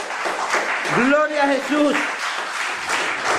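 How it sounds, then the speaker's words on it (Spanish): Applause from a church congregation during a home altar service, a steady wash of clapping running the whole stretch beneath a voice speaking over it. "Denle un aplauso al Señor"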